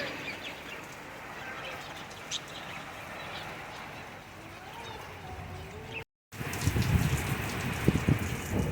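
Steady monsoon rain falls in Karachi around outdoor birdcages holding finches and parrots, a soft continuous wash with faint bird calls, turning louder and closer toward the end.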